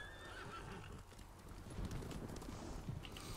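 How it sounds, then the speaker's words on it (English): A horse in the Ghost of Tsushima video game whinnies and its hooves clip-clop, heard close and clear in a short burst. "Wait, I wanted to call the horse."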